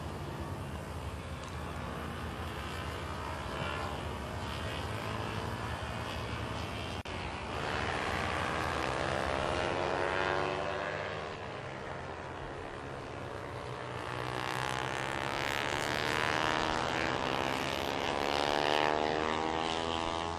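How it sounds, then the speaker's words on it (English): Super 250 race motorcycles drone on the track at a race meeting, a distant, continuous engine whine with rising and falling pitch as bikes pass, blended with steady background noise. "these Super 250 bikes are already out and getting ready for their Race 2"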